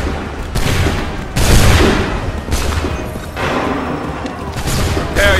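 Musket volleys crash out in Assassin's Creed 3 during the Lexington and Concord battles, several heavy, loud ragged bursts of gunfire rolling one after another with booming echoes.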